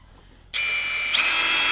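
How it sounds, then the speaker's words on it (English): A power drill bores a hole at the end of a crack in the plastic of a 1991 Cadillac Sedan DeVille, starting abruptly after a quiet moment with a steady, high-pitched whine that rises slightly partway through. "I'm going to drill a hole at the end of our crack here"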